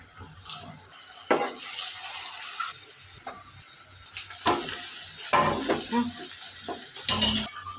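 Red amaranth leaves and shrimp cooking in a pan in a home kitchen, with faint sizzling and bursts of stirring and clattering that come and go, near and moderately loud.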